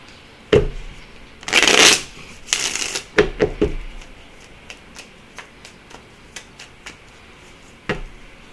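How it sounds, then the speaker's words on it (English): Tarot cards are shuffled up close, a couple of dense riffling bursts followed by scattered light taps and flicks of the deck in a quiet room. "Give it one more shuffle here."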